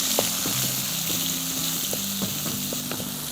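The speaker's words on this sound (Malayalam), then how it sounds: "നന്നായിട്ട് വഴറ്റണം" Onion, ginger and green chilli sauté in a pan with a dense, even sizzle. Occasional soft spoon scrapes sound close by over a few seconds, with no talking.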